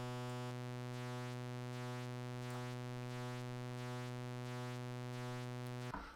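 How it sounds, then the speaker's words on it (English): Sustained synth tone from a Martinic AX73 plugin, holding steady while pulse width modulation sweeps through it in a regular, repeating shimmer; loud and alone, with an abrupt change near the end. "And with this is the pulse width modulation speed."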